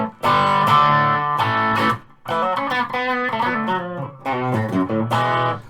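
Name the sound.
Ibanez Z electric guitar, humbucker and bridge pickups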